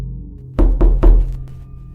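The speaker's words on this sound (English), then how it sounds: "Then the knocking came again." Three heavy knocks on a door in quick succession, loud and close, with a fainter fourth knock after a short gap, over a low steady hum.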